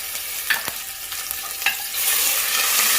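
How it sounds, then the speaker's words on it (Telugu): Ginger garlic paste fries in a pan for Andhra-style coriander mint rice, a steady sizzle that swells louder partway through, with a couple of brief stirring scrapes early on; no one talks. "ఇలా కొద్దిసేపు అల్లం తెల్లగడ్డ పేస్ట్ని ఇలా ఫ్రై చేయాలి."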